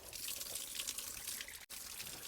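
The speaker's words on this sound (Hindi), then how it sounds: "तो पानी पी लेते हैं पहले।" Spring water trickles and splashes continuously out of the rocks on a mountain hillside, a close, soft, steady flow with a brief gap near the end.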